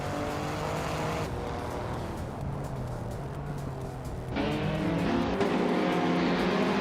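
Race cars in a video game race drone steadily with engine whine and tyre noise, the pitch shifting and swelling louder partway through as cars run nose to nose.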